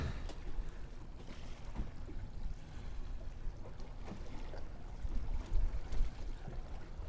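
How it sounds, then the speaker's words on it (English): An outboard motor on a fishing boat idles with a low, steady rumble close by, throttled to hold position against a current, mixed with faint water and wind noise throughout. "just using the throttle on the outboard just to hold me in position"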